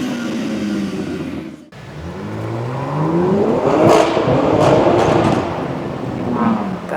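A BMW M4 Competition (G82) fitted with a loud aftermarket exhaust revs hard, the engine note climbing and sweeping up in pitch after a brief cut, loud and close, with no talking.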